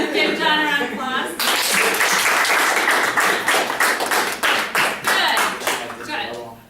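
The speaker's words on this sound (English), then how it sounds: "Give John a round of applause." A classroom round of applause for a student breaks out loudly, a dense burst of many hands that thins into scattered individual claps toward the end.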